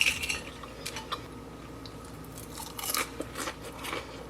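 Someone bites into crunchy cheddar chicken cutlets and chews close to the mic, with crisp crackling crunches and light clinks of cutlery and a plate around them, no talking.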